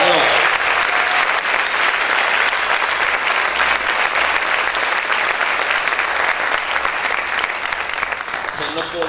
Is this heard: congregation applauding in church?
yes